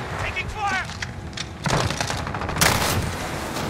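Rapid gunfire and explosions in the video game Modern Warfare, with the Striker 45 in play, bursting loudly over game audio as a voice talks.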